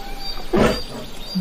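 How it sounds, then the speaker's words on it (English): A bear roars once in a short, loud burst that swells and fades, with no talking around it. "Bear,"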